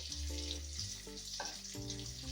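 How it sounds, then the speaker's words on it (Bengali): Cumin and whole spices with dry chilli sizzling in hot oil in a pan while khichuri is being cooked, a faint steady crackle and hiss with light clinks of stirring close by. "এই যে সেটা একটু ভাজা ভাজা হয়ে এসছে আর একটু ভাজা হবে"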